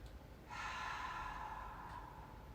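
One long breath drawn in through the nose during a yoga tree-pose session: a soft, airy inhale rising after a quiet start and held for about a second and a half, then easing off, close and intimate with no voices.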